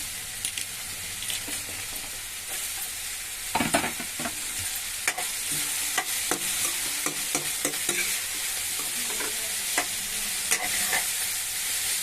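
Bottle gourd with onion, green chilli, tomato and carrot frying in a pan while a spoon stirs through them, giving a steady sizzle broken by repeated scraping strokes and clatter, close and fairly loud, with no talking.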